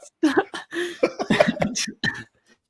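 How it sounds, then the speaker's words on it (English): A close series of short, sharp coughs in quick bursts, then a pause and one final cough before silence. "I just coughed mid-sentence"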